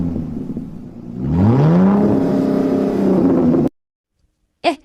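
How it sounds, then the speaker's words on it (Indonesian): Pickup truck engine revving up and holding a steady, loud drone for a few seconds before cutting off abruptly, with a brief higher sound afterward. "Itu ada mobil bak tuh. Kita naik mobil aja yuk pulangnya yuk."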